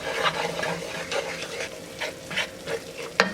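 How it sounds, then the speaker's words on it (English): Flour stirs into a cooking roux in a pan, with a soft sizzle under repeated scraping strokes of a utensil and a sharp clink near the end. "So in goes the 1/4 cup of flour. And just keep stirring it."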